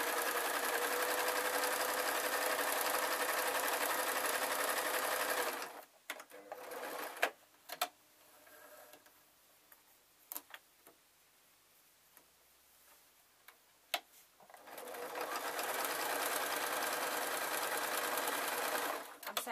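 A sewing machine stitches up the shoulders and sleeve of a ragdoll's unlined coat, running in a fast continuous whir for several seconds. A pause follows with small clicks and handling noises, then the machine runs steadily again.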